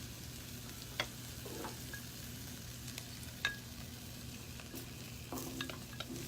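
Brussels sprouts frying on a hot grill give a faint, steady sizzle with a few light ticks and clicks from stirring, heard alone with no talk.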